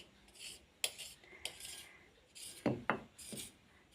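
A knife scores thin rolled-out parotta dough on a work surface with a series of short, close, quiet scraping strokes in an uneven rhythm.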